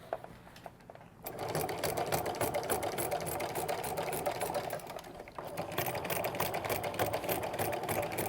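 Sewing machine stitching slowly over a twill tape handle on a foam-structured fabric nesting basket, a steady close whir that starts after a brief quiet moment and dips once before running on.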